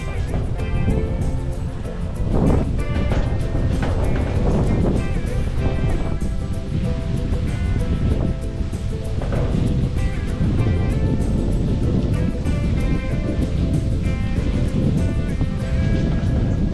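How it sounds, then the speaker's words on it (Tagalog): Strong wind roars over the sea on the Palawan coast, with surf washing in steadily and loudly for the whole stretch, a voice occasionally talking beneath it. "Lakas ng hangin."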